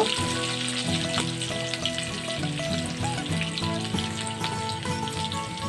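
Whole garam masala (cardamom, cinnamon, cloves and a broken bay leaf) sizzles steadily in hot oil, with occasional stirring, beneath a continuous layer of tonal background music.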